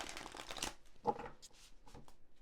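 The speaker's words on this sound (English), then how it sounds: "we are going to shuffle the cards" A deck of oracle cards being shuffled by hand, quiet riffling and soft slaps in a few short bursts, close and faint with no talking.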